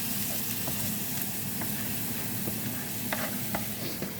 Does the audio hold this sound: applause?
no